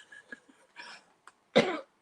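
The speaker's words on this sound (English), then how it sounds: "Elbow cough." A single cough muffled into an elbow, preceded by a few faint throat sounds and breaths, then one sharp, close burst, with nothing else audible around it.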